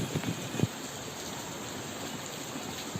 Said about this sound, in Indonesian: Jadi seperti inilah kondisinya di saat hujan